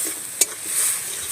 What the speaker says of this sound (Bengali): পেঁয়াজের গন্ধটা যতক্ষণ না কাটবে আমি এভাবে নাড়তে থাকবো